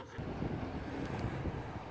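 Wind buffeting a microphone outdoors, a continuous low rumbling roar for about two seconds with no voices.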